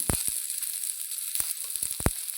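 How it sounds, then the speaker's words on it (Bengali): Cauliflower frying in hot mustard oil with turmeric and salt, a constant bright sizzle with a few sharp pops and crackles, fairly quiet and close, no voices. "ফুলকপিটা আগে ভেজে নেব।"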